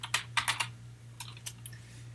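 Quiet, close computer keyboard typing while entering C++ code, a few quick bursts of key clicks with short pauses between, over a low steady electrical hum.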